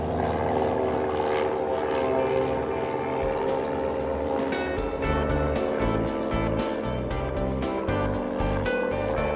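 Small propeller aircraft flying over the Champagne region of France, a loud, constant engine drone with a steady propeller buzz heard from inside the cabin, continuous with no talking.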